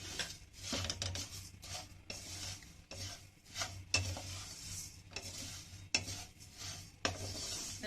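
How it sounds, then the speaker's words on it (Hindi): Whole spices dry-roasting together in a pan for chaat masala, with quiet scraping and stirring strokes in an uneven rhythm, soft and close, no voices. "पैन रखा है और इसके अंदर ये मसाले डाल के भूनेंगे। सब एक साथ ही डाल देंगे।"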